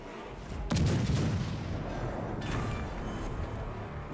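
Distant naval shellfire in World of Warships Legends, a burst of heavy booming gun blasts followed by sustained rumbling explosions, loud and dense with no talk over it.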